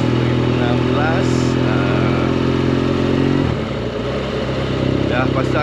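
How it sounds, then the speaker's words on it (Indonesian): BMW GS 1200 LC motorcycle fitted with a slip-on exhaust, Rapid Bike Racing and shift assist, riding with a loud steady engine drone and wind noise, pitch dropping briefly as it shifts, with voice mixed in. "So saya ambil kesempatan ni untuk short ride sekejap bawa BMW GS"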